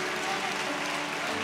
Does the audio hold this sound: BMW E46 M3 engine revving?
no